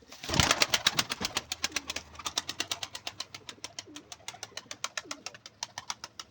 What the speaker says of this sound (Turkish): Kuşlar çok güzel arkadaşlar